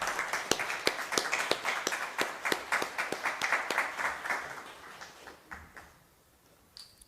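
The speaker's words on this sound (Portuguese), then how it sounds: "Uma salva de palmas ao novo presidente." Applause breaks out in a municipal council chamber during an ordinary session to greet the newly installed president: steady, moderately loud clapping from a group for about five seconds, then thinning out and fading to near silence.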